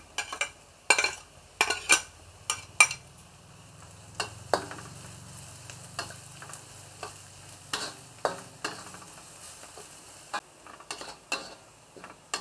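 Ginger and garlic fry in hot oil with a soft, steady sizzle, broken by sharp scraping and clinking as a utensil repeatedly stirs against the pan; no one speaks.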